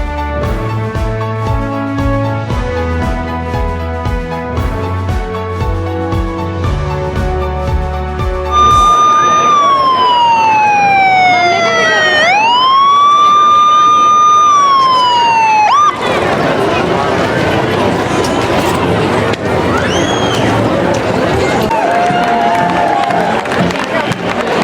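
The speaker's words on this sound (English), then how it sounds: "You just heard those sirens." Emergency vehicle sirens at a Fourth of July parade in Jackson, Wyoming: a loud, close horn-like blare, then a wailing siren sweeping up and down before a crowd cheers, with people talking.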